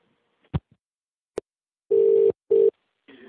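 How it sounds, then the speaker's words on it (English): A telephone line carries a call-progress tone in two short steady bursts, a longer one then a briefer one, after a couple of sharp clicks, with a faint further tone at the end. "the phone just rang there, sorry, and you answered it"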